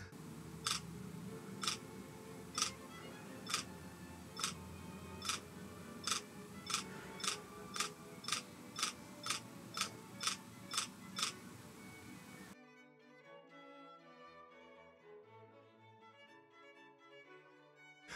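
A Yongnuo 12-35mm f/2.8-4 Micro Four Thirds zoom lens drives its stepping autofocus motor in a steady run of about fourteen crisp, evenly spaced clicks, close and quiet, before music takes over.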